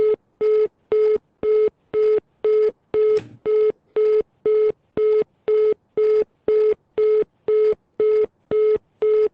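A telephone on a conference call gives a regular series of short, identical beeps about every half second, with one brief rustling disturbance partway through, loud and close with silence between tones and no speech.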